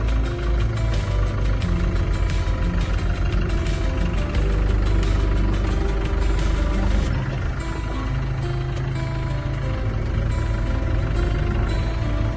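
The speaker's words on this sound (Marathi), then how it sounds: "क्लच दाब, रिव्हर्स घेतात आणि हळूहळू मागे जाऊ." A car engine runs with a loud, steady idle and slight knocking while the car reverses slowly, keeping a close, continuous rumble throughout.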